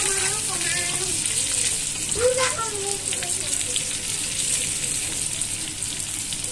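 Chicken pieces frying in oil, a steady close sizzle and crackle throughout with a short whistle-like tone early on.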